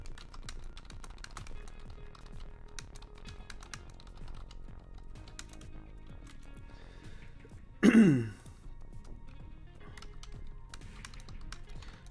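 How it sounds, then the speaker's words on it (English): Light, quick keystrokes tap on a computer keyboard in a quiet room, a soft, irregular clatter running throughout, broken once by a throat clearing. "Typing a quick message here,"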